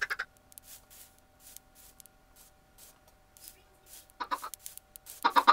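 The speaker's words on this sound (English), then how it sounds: "Come on, chickens." Chickens in Minecraft give short bursts of clucking, faint at the start and louder near the end, over a quiet game ambience with a steady tone.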